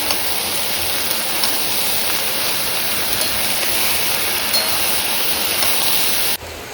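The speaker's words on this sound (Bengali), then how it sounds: "যা বৃষ্টি শুরু হয়েছে তাতে করে মনে হচ্ছে না বৃষ্টি তাড়াতাড়ি থামবে" Monsoon rain pouring down in a steady, dense hiss that holds evenly for several seconds, then cuts off abruptly near the end, with no voices.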